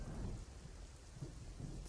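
Thunderstorm in a Roblox camping game, with steady rain hissing and low rolling thunder rumbling throughout, fairly loud and continuous with no talk.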